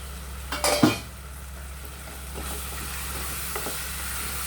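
Masala for mutton biryani sizzles in a pan. A spoon clatters and stirs sharply at first, then a steady soft frying hiss continues with a few faint scrapes, and no one speaks.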